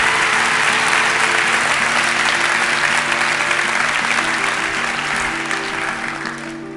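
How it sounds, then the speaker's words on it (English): A big round of applause from a group of friends at a talk show, dense steady clapping filling the whole stretch and tapering slightly toward the end. "along with a big round of applause from all your friends"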